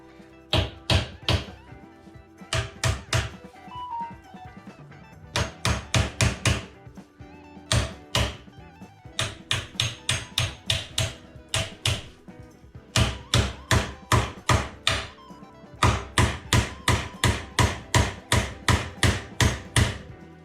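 A new star nut is hammered into the steerer of a Manitou Machete fork on a Haibike FullSeven e-bike, with a bolt set on top to drive it in. Rapid, loud, close metallic hammer blows come in repeated bursts.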